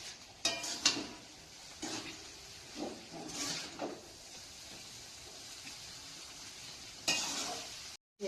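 Chow mein noodles with fried vegetables are stirred in a pan over a quiet sizzle, with several distinct scraping strokes of a utensil against the pan spread across the span.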